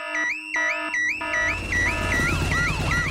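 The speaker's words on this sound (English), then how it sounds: "Daddy Pig has set off the noisy house alarm." A Peppa Pig cartoon house alarm rings loudly and insistently, in repeated rising and falling electronic wails that start in short bursts and then run on without a break.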